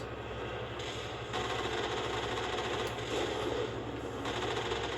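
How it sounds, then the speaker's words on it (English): Turrets in Mass Effect fire multiple rockets in quick succession, producing a dense rapid rattling barrage that runs steadily through the whole stretch, loud and continuous. "These turrets are a little bit different, as you can tell, that they shoot multiple rockets in quick succession"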